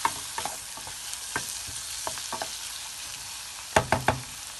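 Garlic frying in a pan as it is stirred: a steady low sizzle broken by sharp scraping clicks of the utensil, sparse at first, then a quick cluster of louder strokes near the end, close and with no voices.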